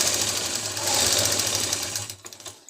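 A sewing machine runs in one close, continuous burst of fast rhythmic stitching along the seam of a circular palazzo, then stops with a few clicks near the end.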